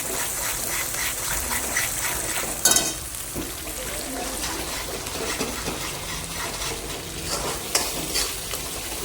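Ginger garlic paste with red chili powder sizzles and fries in oil while being stirred, a steady close crackle with occasional louder scraping bursts and no talk.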